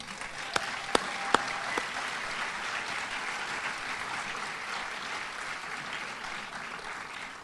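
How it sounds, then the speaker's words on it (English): Audience applause at a spring fashion show. A few sharp claps at first swell into a full, sustained round of clapping that holds steady throughout. "let's give them a final round of applause"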